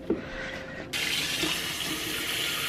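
Tap water starts abruptly and runs steadily into a kettle in a home kitchen, a close, even rushing pour that continues to the end with no talking.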